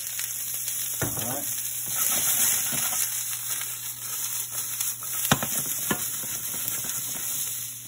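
Food browning in an oiled pan, a continuous close sizzle broken by several sharp stirring scrapes and clatters.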